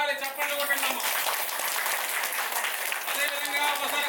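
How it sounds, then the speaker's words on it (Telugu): Guests at an engagement ceremony clap in a steady wash of applause, partly covered by a voice and tonal sounds on top. "ఒక్కసారి చప్పట్లు కొట్టండి"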